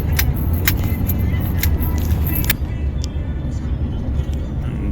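Inside a 2021 Toyota Sienna XSE AWD minivan on the road, a steady low cabin rumble of tires and engine continues, with a few faint clicks and rattles near the start.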